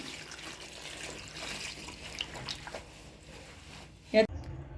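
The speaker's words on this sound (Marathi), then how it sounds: "आता ही पा भाजी दोन पाण्याने स्वच्छ धुवून घेणार आहे" Water runs steadily from a tap with soft splashing as aghada leafy greens are rinsed, ending in a brief louder clatter.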